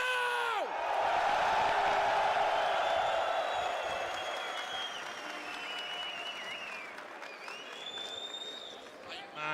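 A large crowd cheers and applauds loudly, a dense roar with whoops that gradually fades somewhat.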